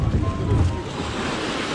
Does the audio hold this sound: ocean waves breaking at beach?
yes